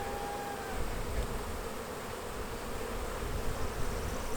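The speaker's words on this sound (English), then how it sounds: "You probably start seeing some bees coming out of there." A steady, dense hum of honey bees buzzing at the front of a hive, close and continuous for the whole stretch with no voices.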